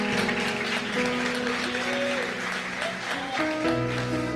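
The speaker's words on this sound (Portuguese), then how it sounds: "A igreja pode aplaudir Jesus." A church congregation applauds during a prophetic conference service, steady broad clapping from a large room that carries on throughout, with musical tones and a few voices sounding beneath it.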